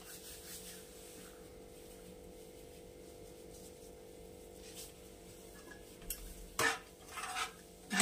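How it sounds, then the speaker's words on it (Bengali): Spices with turmeric and kasuri methi being stirred and fried over low heat in a pan, a quiet, continuous scrape and faint sizzle, ending with a few louder clinks and scrapes of the spoon against the pan. "লো ফ্লেমে, লো হিট দিয়ে ভালো করে মশলাটা ভেজে নেব।"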